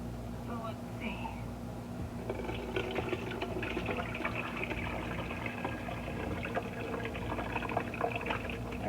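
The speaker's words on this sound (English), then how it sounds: "we got it all poured into the pan here" Homemade tomato juice is poured into a pan for canning, a faint splashing liquid stream that runs continuously under a low hum in a kitchen.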